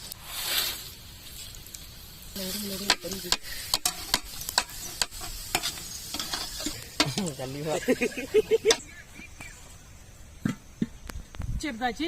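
Food sizzles and scrapes in a pan as a utensil stirs with repeated clacks and swishes, fairly close, with a voice speaking at moments.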